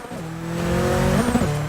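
A race car engine in a racing video game revs through rising and falling tones while the tires squeal briefly, a close, continuous sound with no talk.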